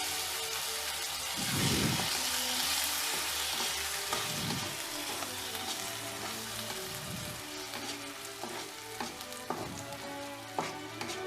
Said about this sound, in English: Add tomato puree in the pan and stir it well.